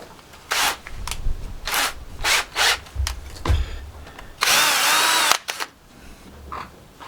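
A power drill loosening screws on scrap motors whirs in repeated short bursts with clicks and scraping between them, then one longer, higher-pitched spin near the end.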